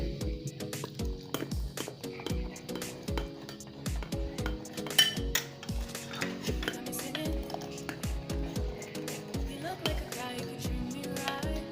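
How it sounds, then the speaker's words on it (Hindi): A spoon stirs milk thickened with cornflour in a pot, with frequent close metallic clinks and scrapes against the pot sides in a busy, uneven rhythm, with music in the background. "और वो भी हम इसके अंदर मिक्स करते हुए ऐड कर देंगे और चम्मच बराबर हिलाते रहेंगे।"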